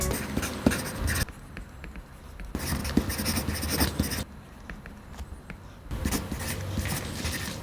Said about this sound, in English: what exactly is the difference between writing on paper and writing on iPad?